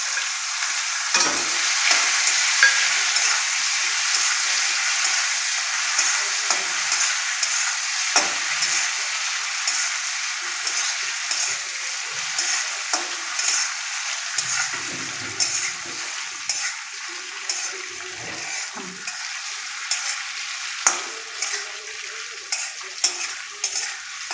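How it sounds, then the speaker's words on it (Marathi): Prawns fry in a pan for a spicy Malvani prawn curry, with a loud, continuous sizzle and repeated spatula scrapes and stirs throughout. "त्यात आपण प्रॉन्स फ्राय करून घेणार आहोत."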